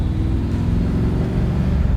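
A supercharged 1970 Camaro restomod pulling in second gear, its engine giving a steady, close, low rumble that continues without a break and with no voices over it.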